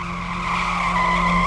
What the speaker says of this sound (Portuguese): Aquele barulho característico de quem freou o carro.